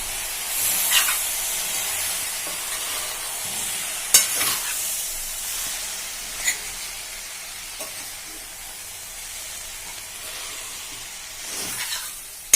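Ivy gourd fry with chili powder and chilies stirred in a pan: a soft, steady sizzle with a few scattered scraping clicks from the spatula, no voices.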